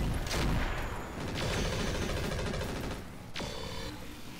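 Bursts of rapid gunfire from the tactical shooter game Roguepoint, loud and close, with a sharp crack at the start and another near the end amid sustained firing.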